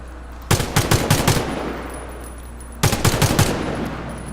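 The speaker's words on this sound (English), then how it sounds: "I'm gonna shoot over your shoulder." Gunfire from the online shooter Warface: two separate bursts of rapid automatic shots, about five sharp reports each, loud and close, with a short quiet gap between them.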